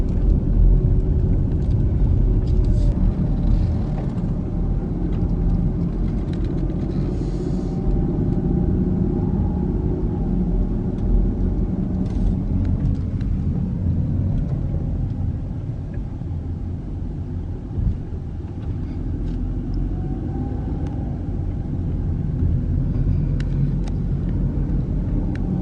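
Steady interior hum of a car driving through the streets of Fargo, North Dakota, a continuous low engine and road rumble with faint passing traffic, no talking.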